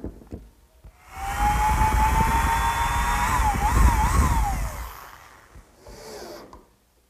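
A power drill or screw gun driving screws into a wooden shelf in a woodworking shop, a single sustained whine that rises and wavers under load for several seconds, close and loud, then stops with a short quieter burst after.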